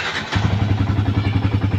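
A 2015 Yamaha Vixion Advance motorcycle starts close by with a short crank, then settles straight into a steady, throbbing idle that keeps a regular pulsing rhythm.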